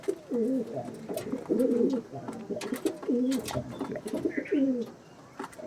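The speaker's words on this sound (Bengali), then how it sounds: "খুব সুন্দর কোয়ালিটির পায়রা" Pigeons of a show-quality breed coo close by in repeated rolling, throaty phrases that run almost continuously, with some faint clatter in the background and no talk.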